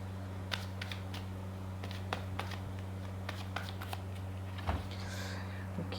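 Tarot cards are shuffled in quick, soft riffling bursts over a steady low hum, fairly quiet and with no talking.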